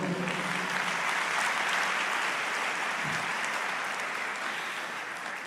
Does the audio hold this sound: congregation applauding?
yes